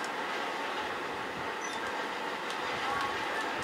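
A moving train in a video game, a steady rumbling rail roar with a faint squeal that holds evenly throughout the short stretch.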